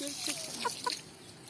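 Chickens give a few soft, short clucks close by at a farm watering spot, quiet and brief against light background noise.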